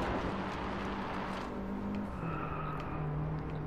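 Car engine and tyres in the PS4 racing game DriveClub: a continuous loud engine drone with shifting pitch and road noise, a gear change around the midpoint, no talk.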